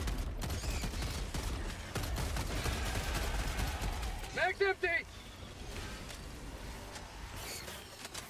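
Sustained gunfire from a shooter video game about fighting bugs rattles steadily for the whole stretch, with a short burst of voice partway through.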